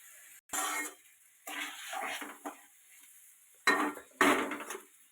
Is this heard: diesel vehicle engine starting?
no